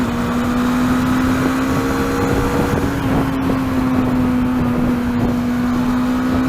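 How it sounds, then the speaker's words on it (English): Bajaj Dominar 400 motorcycle engine riding at speed, a steady loud drone with wind rush as the slipper clutch lets revs settle during a downshift, no talking. "Clutch slipping again, RPM going down."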